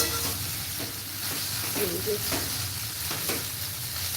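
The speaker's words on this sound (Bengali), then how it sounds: "চলুন ভালো মতো পুরো মিশিয়ে নিচ্ছি" Ordinary chow mein noodles sizzle steadily in a pan while being tossed and mixed, with recurring scraping strokes and soft clinks over a constant frying hiss and no talking.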